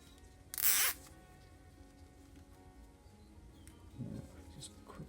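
A plastic cable tie is ratcheted tight on a Yamaha Fazer FZS600 motorcycle during front wheel bearing work, giving one short, loud zipping burst up close, followed by quieter handling noises.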